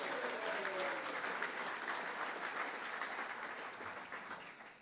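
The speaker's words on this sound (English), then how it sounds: "Can we all have a round of applause?" An audience at a Rotary centenary luncheon claps steadily for several seconds, a dense, even patter of many hands in a room that slowly tapers off.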